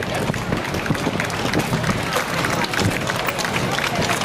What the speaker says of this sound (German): Ganz toll, Lars, dein Applaus!